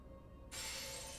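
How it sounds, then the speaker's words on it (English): A shattering crash from the Elden Ring video game bursts in halfway through, loud and bright after a quiet start, then rings on briefly. "If it shatters, you won't survive the fall."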